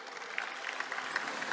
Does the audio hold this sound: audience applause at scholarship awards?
yes